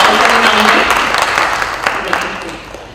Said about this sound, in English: Then we have another round of applause for his national award for best entry